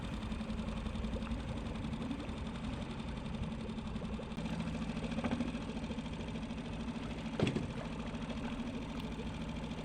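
A small outboard motor on a sailboat idles steadily with a low, even drone near a mooring area, mixed with outdoor background noise and a brief knock near the end.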